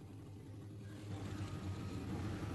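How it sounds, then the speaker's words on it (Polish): In the video game Gothic 2, a low rumbling engine-like drone, like a tractor starting, swells and grows louder midway, continuous and muddy with no voices. "Brzmi jakby ktoś traktor odpalał."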